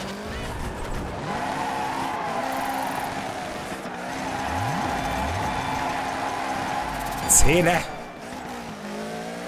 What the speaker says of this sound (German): manchmal driftet die Karre nicht so, wie sie soll